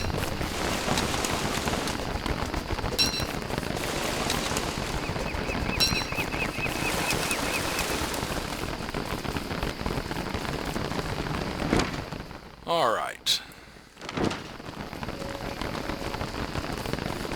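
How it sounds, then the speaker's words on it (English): Steady rain pours down in the survival video game Don't Starve, a dense continuous patter that fills the scene, broken briefly near the end by a short sweeping whoosh before the downpour resumes. "Sticking in the woods is also protecting me a lot from the rain right now."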